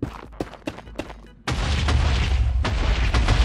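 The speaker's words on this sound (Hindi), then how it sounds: "अरे अरे बम फोड़ा फूड़ू की आवाज चालू हो गई वापस" An explosion in a Minecraft world goes off suddenly after a few faint clicks, then a loud, deep roar keeps rumbling until the end.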